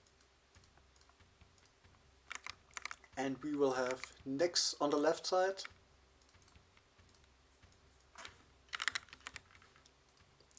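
Computer keyboard keys click and tap in scattered bursts as a player sets up for a Hellish Quart tournament match, close and light, with a commentator talking over the middle stretch.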